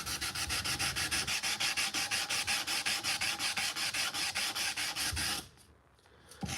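Steady back-and-forth hand sanding with flexible sandpaper, a dense rhythmic rasping of many quick strokes, close and loud, stopping abruptly near the end.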